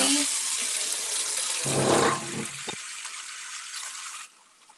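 Water runs steadily from a tap into a sink as a continuous broadband rush, briefly heavier in the middle before cutting off near the end, with faint speech in the background.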